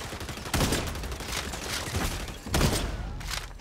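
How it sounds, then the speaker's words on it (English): Gunfire aimed at the player in the shooter game XDefiant, with two sharp, heavy shots about two seconds apart over a dense backdrop of crackling game noise, fairly loud and close. "Oh, i have been shot at."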